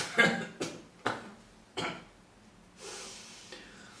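Several faint, short coughs spaced out over a few seconds, weak and breathy, from a wounded man coughing up blood with weak laughter, followed by a soft exhale.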